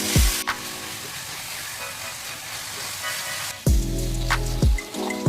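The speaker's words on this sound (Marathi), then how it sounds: "बारीक चिरलेले टोमॅटो। टोमॅटोला तेल सुटेपर्यंत ढवळून घेऊया।" Chopped tomatoes with curry leaves sizzle in hot oil in a pan, a steady frying hiss broken by a few louder scrapes and clatters of a stirring spoon.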